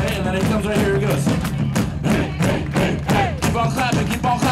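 A crowd at an outdoor Tour de Fat festival in DC claps in a loud, steady rhythmic beat, with shouts and voices mixed over the clapping.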